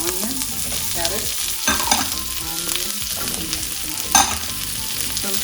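Onion and carrot sauté in a pan for kung pao chicken with a loud crackling sizzle and busy stirring and tossing scrapes, plus a couple of sharper clanks, without any talking.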